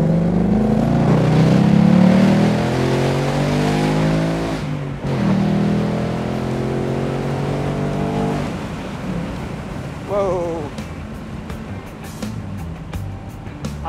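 Ford Mustang GT convertible accelerating hard through several gears, loud engine roar climbing in pitch, dropping at each shift, then rising again before fading into road and wind noise.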